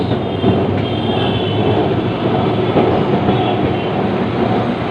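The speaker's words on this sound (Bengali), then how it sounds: "কিন্তু ট্রামে করে যাচ্ছি" Steady rumble of a tram rolling along rails in Kolkata, heading to Gariahat, with a rhythmic clatter of wheels over the track and a constant mechanical drone.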